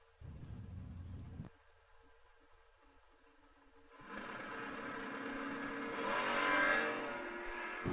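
An older Ford Mustang drag car at an old-time drag racing event roars off the line, a loud engine burst cutting out briefly before a rising, sustained acceleration roar heard at a distance, with no talking.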